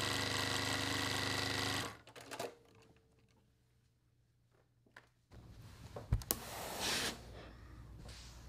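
A sewing machine stitches strips of jelly roll quilting fabric, running steadily and loudly for about two seconds before stopping, followed by quieter handling noises and rustling.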